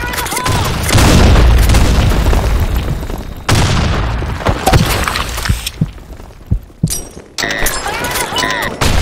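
Grenade blasts in a shooter video game: a heavy boom opens, a second blast follows midway, then scattered crashes and impacts, loud and close, with game voices and effects mixed in.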